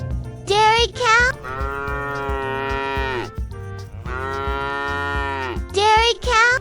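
A dairy cow gives two long, loud, close moos. Brief high voice-like calls come before and after them.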